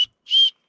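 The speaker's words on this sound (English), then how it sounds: "That is the official gratitude whistle." A person on the Grandview Trail at the Grand Canyon gives a short, high, pure whistle: one clear sustained note lasting about a quarter second, right after a brief clipped chirp, with silence around it.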